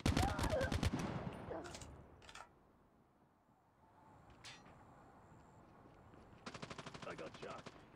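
Bursts of automatic gunfire in the mobile shooter Call of Duty Mobile, a loud rapid volley opening, a short burst near the middle, and another sustained rattling volley near the end, with quieter gaps between.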